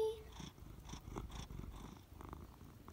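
A 16-year-old cat purring up close, a steady low rumbling purr that runs the whole time in soft, rhythmic pulses with no talking.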